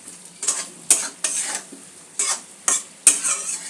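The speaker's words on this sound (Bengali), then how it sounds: "সব মশলা দিয়ে ফুলকপিটা আর আলুটা ভালো করে কষে নেব।" Cauliflower and potato with spices stirred and fried in a pan over a low-to-medium gas flame, with repeated scraping strokes over a steady sizzle, loud and close, no voices.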